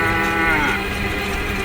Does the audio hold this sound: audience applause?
no